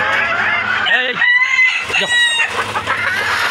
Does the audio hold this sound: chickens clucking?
yes